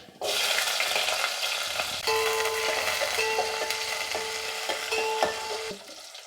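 Mustard seeds, cumin and onions sizzle in a hot pan for a Nellore-style prawn curry, a steady close hiss with stirring scrapes and small clinks running throughout, no voices.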